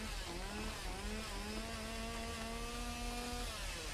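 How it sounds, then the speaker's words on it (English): A chainsaw in a video game, its steady motor drone climbing in pitch as it revs, continuous and fairly even under a noisy background with no talk. "Sounds like a chainsaw."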